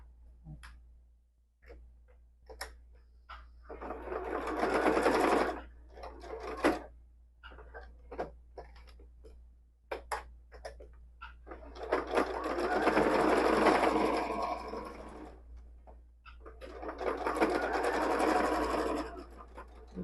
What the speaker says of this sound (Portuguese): eu vou jogar minha agulha todinha pra direita, pra essa costurinha ficar bem na beiradinha e bem bonita